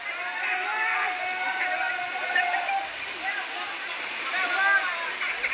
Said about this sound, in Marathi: बघा कसा हा धबधबा 100 फुटापेक्षाही जास्त हे उंच ठिकाणावरून